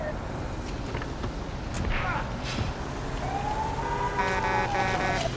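A fire truck siren in Grand Theft Auto 1 wails with a rising, sweeping tone over steady engine rumble and busy background noise.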